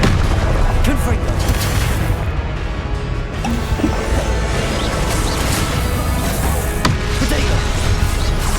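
Confringo spell explosion in the game Hogwarts Legacy: a loud, continuous barrage of crashing blasts and deep rumbling booms that fills the whole stretch without letup.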